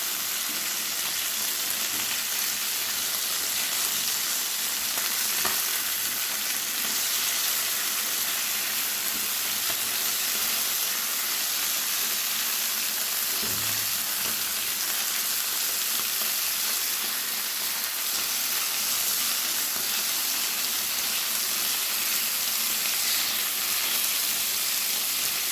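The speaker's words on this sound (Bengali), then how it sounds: "অনেকগুলো মাছ আমি দুবারে ভেজে নেব।" Tangra fish frying in oil in a pan, a steady close hiss and sizzle holding evenly for the whole stretch with only faint occasional clinks, no voices.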